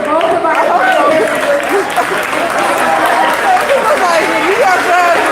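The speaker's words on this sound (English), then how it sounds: "Let's give one more round of applause for both of our hosts." An audience at a community environmental dialogue event claps for the two hosts, loud steady applause with scattered whoops and chatter mixed in, while voices call out over it.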